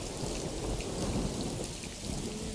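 Heavy monsoon rain pours down in a dense, continuous hiss, with a low rolling rumble of thunder underneath throughout.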